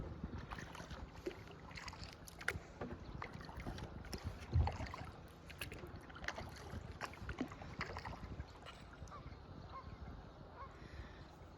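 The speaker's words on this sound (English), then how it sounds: "one of the nicest things about a kayak ride on a hot day is getting a little sprinkled from your paddle" A kayak paddle dips and splashes on a calm pond in soft, irregular strokes with water trickling off the blade, quiet and close, while geese honk faintly in the distance.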